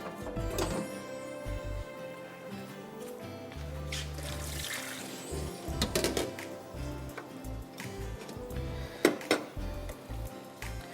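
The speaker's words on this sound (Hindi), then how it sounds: "पानी में इसका निकाल दूं बैंगन का।" Eggplant is dropped into a bowl of water in a kitchen, with splashing, running water and clattering handling knocks in irregular bursts close by.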